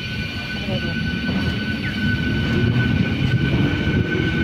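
A train at a railway station produces a loud, steady engine rumble with a sustained tonal whine, continuous and close, with no other sounds standing out.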